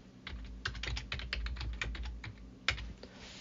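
Close, quiet keystrokes from a computer keyboard as a file name is typed, an uneven run of soft clicks lasting a few seconds with no voices.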